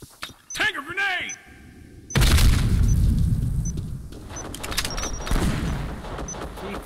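A grenade blast in the tactical shooter Black Squad during a competitive match: a sudden loud burst lands about two seconds in and rolls into sustained rumbling with scattered cracks, after a brief shouted voice.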